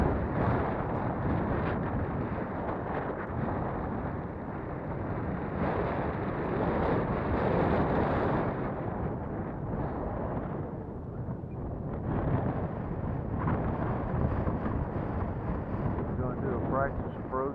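Strong gusting wind roars and buffets the microphone nonstop at an airfield during an E-flite 70 mm Viper model jet flight, loud and close, with people talking beneath it.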